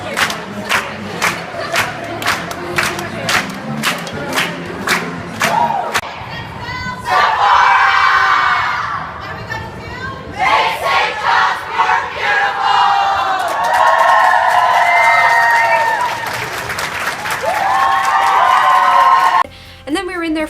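A crowd cheers and shouts at a Sephora store grand opening, first clapping in a steady rhythm, then bursting into loud, sustained whoops and yells that swell and fade over about twenty seconds.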